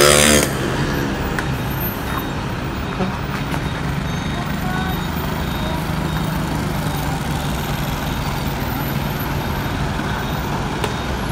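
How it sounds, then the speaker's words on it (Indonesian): A yellow-liveried Yanda Prima bus bound for Palembang arrives, a steady engine rumble mixed with road and traffic noise that holds at a constant level throughout. "Masuk satu unit lagi bus Yanda Prima tujuan Palembang dengan livery kuning."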